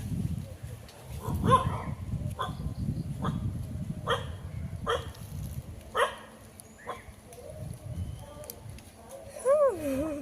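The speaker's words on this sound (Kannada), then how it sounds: "ನಾಯಿ ನೋಡ್ತೀವಿ" A dog gives a series of short barks spaced a few seconds apart, over rustling and background voices outdoors.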